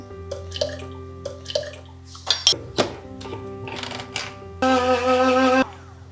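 A few light clinks and knocks of containers, then a short splash as two tablespoons of cooled boiled rosemary water are poured near the end.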